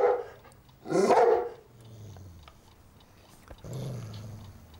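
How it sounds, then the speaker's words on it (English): A large dog barks and growls in a snowy setting: one sharp bark up front, a louder burst of barking, then low rumbling growls close by. "I am trapped here by a large dog."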